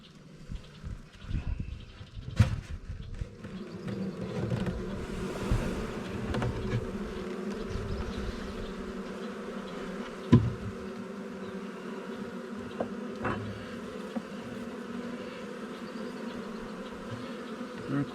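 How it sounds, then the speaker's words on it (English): A swarm of honey bees buzzing at a hive during a swarm install, a faint continuous drone with scattered knocks and handling thuds nearby. "There are quite a few bees. I'm gonna brush them down in there."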